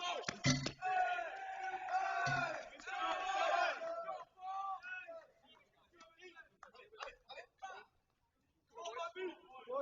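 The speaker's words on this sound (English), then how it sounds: "San Diego is just cheering the whole time, basically" San Diego players and fans shouting and cheering at a men's college tennis match against Princeton, loud voiced bursts that drop away into quieter gaps and short calls.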